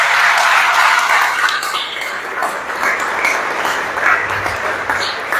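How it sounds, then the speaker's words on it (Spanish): A church congregation gives a loud, sustained round of applause for Jesus Christ after a blessing, the dense clapping holding steady throughout and easing only slightly near the end. "Vamos a darle un fortísimo aplauso a Jesucristo."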